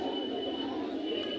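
Pigeons at the Hasnabad pigeon market in Bangladesh coo softly amid a low, busy market murmur, with the soft calls blending into the crowded background.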